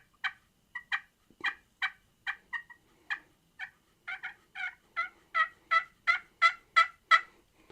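Hunter Specialty Strut turkey call producing a run of about seventeen sharp yelps, evenly spaced and growing louder toward the end, close and clear against a quiet background.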